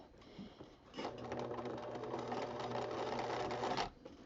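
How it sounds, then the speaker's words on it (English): A sewing machine stitches quilt binding around a curve, a quiet steady run of rapid needle strokes starting after a second and stopping abruptly near the end, close and alone without talk. "now I'm ready to start stitching this curve"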